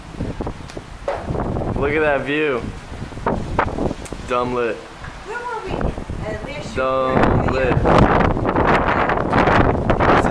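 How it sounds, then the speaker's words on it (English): Outdoor wind buffets the microphone in a steady, rumbling rush that runs beneath people talking throughout. "It's a little windy."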